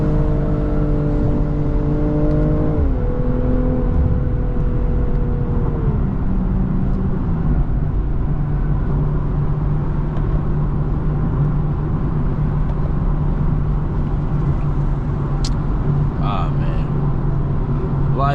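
BMW G20 M340i with its B58 engine accelerates, a steady engine drone with a falling tone shift as gears change, heard from inside the car under occasional talk.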